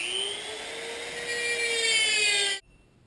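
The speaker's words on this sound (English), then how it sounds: "now we're going to cut one of the rivets out of this chain out of here" A steady, high-pitched grinding whine of a power tool cutting a rivet out of a Honda Hawk motorcycle chain, held at full intensity for a few seconds before stopping abruptly.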